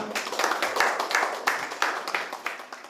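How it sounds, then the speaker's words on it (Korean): Audience at a policy forum on support for youth leaving care claps for an opening address, a brisk burst of many hands with sharp individual claps standing out, loud and near, with no speech. "큰 박수 부탁드리겠습니다."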